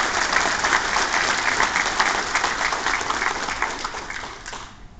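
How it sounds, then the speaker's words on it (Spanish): A convention crowd gives the president a large, sustained round of applause, dense and steady clapping that rings out and begins to fade at the very end. "Quiero un gran aplauso para el presidente."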